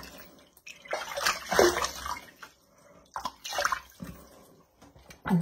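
Water splashes in uneven bursts as tea tree face wash is rinsed off a face by hand, close and fairly quiet, with short pauses between splashes.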